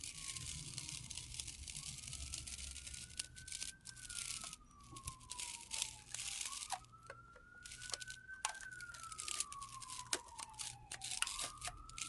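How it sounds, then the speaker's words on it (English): Emergency vehicle sirens wail in the distance, their pitch sweeping slowly up and down in long rising and falling cycles over a steady background hiss and scattered crinkling sounds. "Uh-oh, sirens."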